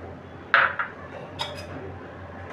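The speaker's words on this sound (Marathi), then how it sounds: "हे जे दूध आहे या दह्यामध्ये मिक्स करायचं" A spoon clinks a few times against a metal vessel as milk is stirred into set curd, with sharp, sparse taps and quiet gaps between them and no talking.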